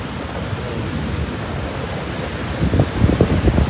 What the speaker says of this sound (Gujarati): કેવડા મોટા મોટા મોજા આવે કા.